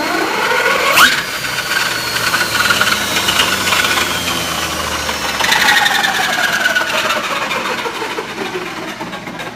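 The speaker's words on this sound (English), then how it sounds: "And as you can hear, the rear end is just incredibly noisy" A golf cart rear end in a small dragster whines and grinds continuously near the mic, with rising and falling gear whine and two sharper surges as the pedal is pushed.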